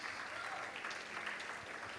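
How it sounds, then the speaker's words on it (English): Faint applause at a development conference in Nizamabad for the photography team, a soft steady patter of clapping from a distant audience lasting a couple of seconds. "A big round of applause for the photography team"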